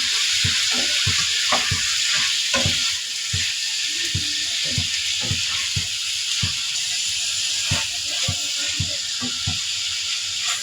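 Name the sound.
eggplant and potato curry frying in spiced masala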